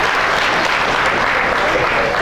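A crowd applauds steadily, dense continuous clapping filling the space at high volume throughout.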